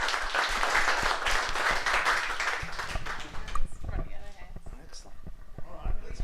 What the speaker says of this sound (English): Do we not give them a bit of a round of applause?